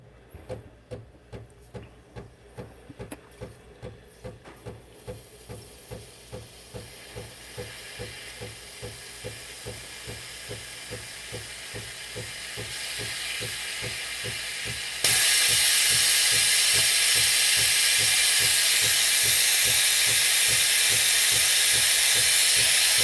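Steam wand of a Breville Barista Pro coffee machine, starting with rapid rhythmic pulsing chugs that merge into a steady hiss, then jumping to a loud, bright, continuous roar of steam near the microphone.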